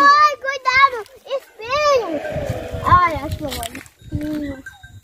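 A few quavering goat bleats ring out close by, mixed with a voice and other people talking.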